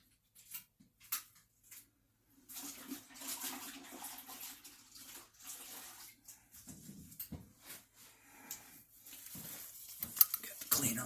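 Water sprays and splashes over a refinished boat gun part for about eight seconds of steady hiss, broken by short splashes and a few knocks, after some quiet handling at the start.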